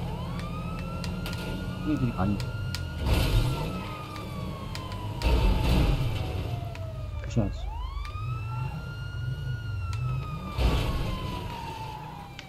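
A wailing police siren sweeps up and down repeatedly over engine rumble in GTA Online, with a person talking over it.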